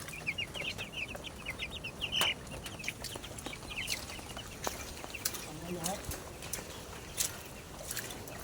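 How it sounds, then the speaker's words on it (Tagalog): Young pet chicks, grown fairly large, chirp and cluck in a high scattered chatter near at hand on a farm, with a voice talking over them and other farmyard noises around. "Ayan ang aming mga alagang sisiw."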